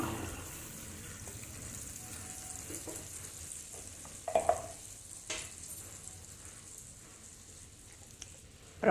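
Lemon pieces in water with turmeric cook in a pan for lemon pickle, a soft sizzle and a steady watery bubbling under occasional faint stirring scrapes, with a brief clatter midway.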